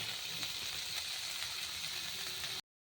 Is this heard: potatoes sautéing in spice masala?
yes